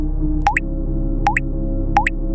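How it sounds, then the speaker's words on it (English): Water drips in three evenly spaced plops, each a clear, resonant drop with a rising ring, heard close and alone over a steady low hum. "The drip grew louder."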